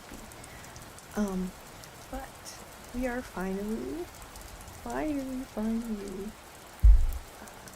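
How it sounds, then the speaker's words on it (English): Soft, steady rain patters in the background while a voice speaks in short phrases, with a brief thump near the end. "So let me know how the rain sound is."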